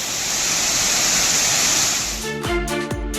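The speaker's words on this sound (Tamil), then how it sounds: "ஆண்டிப்பட்டி அருகே உள்ள மேகமலை அருவியில் 2வது நாளாக வெள்ளப்பெருக்கு ஏற்பட்டுள்ளது." Megamalai waterfall near Andipatti, in flood for a second day, gives a steady, loud roar of rushing water for about two seconds before a voice begins speaking over it.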